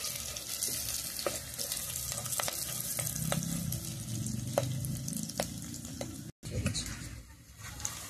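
Curry leaves hit hot tempering oil for dal over a wood-fire stove, giving a steady close sizzle with scattered sharp crackles and pops throughout.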